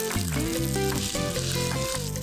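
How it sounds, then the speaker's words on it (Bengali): Sliced bitter gourd goes into hot oil with ginger paste in a pan and fries with a steady, close sizzle that runs throughout, over a tonal musical background. "এবার এবার আমি এই গোল করে কেটে রাখা করলাটা দিয়ে দেব।"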